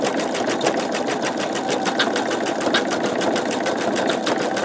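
An embroidery machine stitches out sugar skull flower designs, a steady fast rhythmic needle chatter running loud and continuous throughout with no voices.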